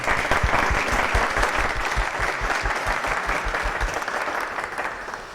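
An audience applauds a lecturer after a history class on African borders, steady dense clapping from a mid-sized room that stays loud throughout before tapering off at the end.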